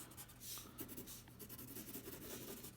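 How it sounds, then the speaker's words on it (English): A white crayon rubs over paper to blend two colors, a soft, steady scratchy scraping made of repeated strokes, quiet and close with no talking. "and then I take a white crayon on top, it smooths the two colors together"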